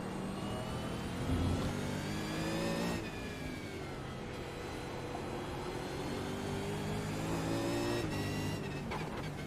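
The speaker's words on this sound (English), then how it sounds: "Don't blow your engine, Bruce." A V8 race car engine in a racing video game at Belle Isle revs steadily and loudly throughout, with rising and falling harmonic pitch sweeps as it accelerates and shifts, with no talk.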